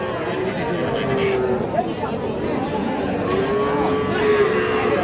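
Cattle mooing at a busy market selling small bull calves, with drawn-out lowing calls rising over steady crowd chatter and people bargaining close by.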